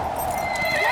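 Horses whinny loudly and their hooves clop in a brief, busy burst, close and prominent with no talk.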